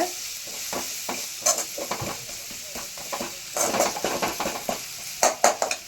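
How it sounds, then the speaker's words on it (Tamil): Ginger-garlic paste sautéed in a pan for mutton curry, with repeated scraping spoon strokes and metallic clinks over a soft frying sizzle, close and moderately loud, irregular in rhythm. "இப்போ வந்து இதில் கொஞ்சம் இஞ்சி பூண்டு பேஸ்ட் வந்து சேர்த்துக்கலாம். ஸோ இதுவுமே ஒரு 2 நிமிஷம் நல்லா வந்து வதக்கிக்கோங்க."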